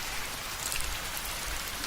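Steady rain pours down on a road in a Bengali horror cartoon, a dense, even hiss with a low rumble that holds throughout the short stretch, with no voices.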